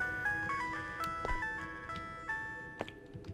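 Phone ringing in the horror game Araya, set in a morgue: a repeating electronic melodic ringtone with bright tonal beeps, moderately loud, with occasional clicks and knocks.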